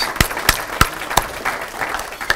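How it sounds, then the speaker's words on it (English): Sparse applause from a small audience at a foreign relations council talk in Iowa City, with a few distinct claps standing out over a soft, thin patter that lasts a couple of seconds. "applause."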